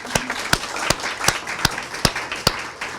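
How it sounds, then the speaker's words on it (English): A small group claps at a veterans appreciation breakfast, sparse and uneven, with a few sharp, distinct claps standing out at roughly regular intervals over a quieter patter. "So how about a round of applause for Lena?"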